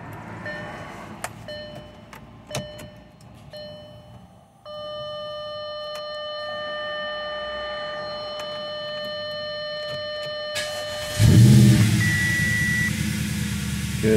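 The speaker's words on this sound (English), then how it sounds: "start the car." An Audi with an ABS fault and warning lights on ticks and chimes with the ignition on, then its engine cranks and catches near the end, settling into a close, steady run.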